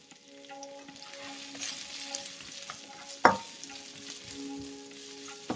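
Peppers sautéing over medium-high heat for a Thai cashew chicken stir-fry, a soft steady sizzle with scraping stirs and one sharp clatter midway, no talking.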